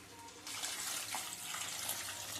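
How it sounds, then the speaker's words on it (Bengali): Water pours into a pot of chicken curry, beginning abruptly as a steady splashing gush that continues to the end, close and moderately loud. "এবার আমি জলটা অ্যাড করে দিচ্ছি।"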